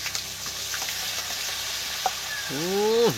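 Stone-ground garlic hits hot oil for a village-style chicken curry, a loud close sizzle and fry with stirring, and a brief rising-falling whine near the end.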